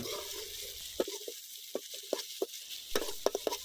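Ginger-garlic paste is stirred into sizzling onions and tomatoes in a pan for Pallipalayam chicken, giving a soft, steady sizzle broken by sharp scrapes and clicks of the spoon.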